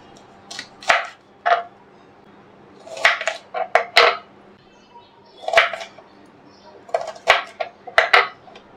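A knife cuts through an onion for moringa soup in a home kitchen, the sharp taps striking in irregular bursts with short pauses between groups of strokes.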